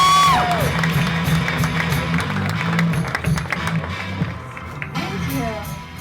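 A comedy club audience claps and cheers for a comedian taking the stage, loud applause and whoops filling the room at first, then tapering off as a voice begins talking over it.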